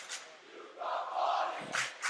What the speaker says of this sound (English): A chant of sympathy from the Marshfield fans